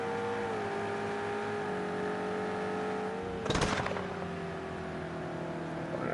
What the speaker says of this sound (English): Let's hear the engines.